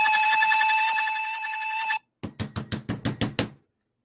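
A sustained electronic alarm tone from a cloaker enemy in a video game, then a short pause and a quick burst of about eight sharp, loud clicking knocks in rapid succession.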